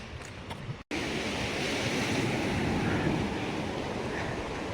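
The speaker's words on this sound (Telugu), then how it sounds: "నీళ్ళు మాత్రం తన్నుకొని వస్తున్నాయి." Ocean waves surge and wash steadily onto the shore at Rushikonda beach, a loud broadband roar with wind buffeting the microphone, briefly cut off near the start before resuming continuously.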